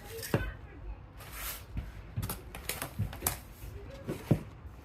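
Scissors or a cutter snip through clear vinyl in a run of short, crisp cuts, irregular and close, with quiet rustling between them.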